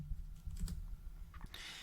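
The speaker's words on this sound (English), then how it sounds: "we can just type in deactivate" A command is typed on a computer keyboard at a command line, a few quiet, close key clicks in a short burst.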